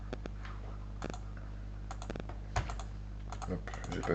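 Keystrokes clatter on a computer keyboard during a beginner's file-explorer computing workshop, arriving in short irregular bursts with pauses between them, close and fairly clear over a steady low hum.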